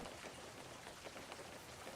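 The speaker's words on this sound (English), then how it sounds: "I just noticed that it's raining." Rain falling steadily in the fishing game WEBFISHING, a dense even patter of drops on surfaces, constant and soft with no other sounds.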